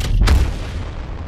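A gravity cannon launch in a battle royale video game: one loud, booming blast up front with a sharp hiss, then a lingering rumbling whoosh that fades slowly, with no voices.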